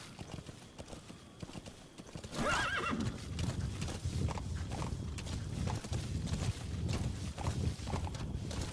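A horse in the video game Metal Gear Solid 5: The Phantom Pain, with clip-clopping hooves and a neighing whinny over ongoing game sound, fairly close and steady.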